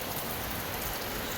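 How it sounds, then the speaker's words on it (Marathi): Heavy monsoon rain pours down steadily in Kandivali, a dense, continuous hiss with no pauses and no voices, close and loud throughout. "अरे बापरे अरे बापरे अरे बापरे एवढा जोराचा पाऊस आला"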